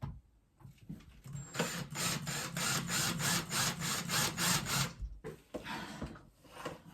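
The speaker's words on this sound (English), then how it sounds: "drill a hole for my wire and in the trim, and to do it slowly so I don't break anything." A drill working slowly through wooden trim to make a hole for a wire, with a rasping, pulsing grind for a few seconds, a brief pause, then a shorter burst, close by and without talk.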